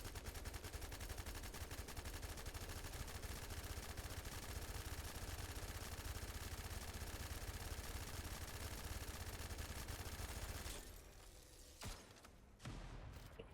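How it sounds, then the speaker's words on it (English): Rapid sustained automatic gunfire in The First Descendant shooter game, a dense continuous stream of shots for about eleven seconds before it breaks off into a few scattered bursts, loud and close with no talk. "and just start shooting."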